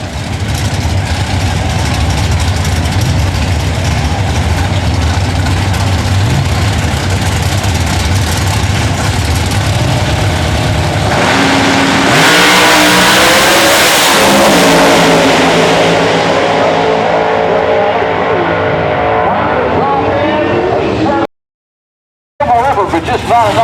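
Drag racing engines at the IHRA finals at Rockingham, North Carolina, rumble steadily at idle, then surge into a loud, sustained rev that sweeps upward before cutting to brief silence, with announcer talk running over the whole stretch.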